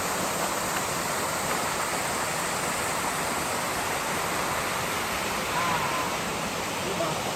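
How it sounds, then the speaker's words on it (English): A waterfall in the mountains of Vietnam's Central Highlands gives off a constant, dense roar of rushing water, loud and unbroken throughout. "watching this waterfall"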